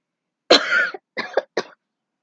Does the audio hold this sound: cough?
yes